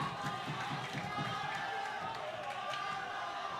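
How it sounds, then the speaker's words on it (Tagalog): Dense, noisy crowd roar at a boxing fight between Bhyria and Pang, a steady loud wash of many voices with scattered shouts throughout. "Grabe yung ingay. Grabe yung energy ng crowd dito"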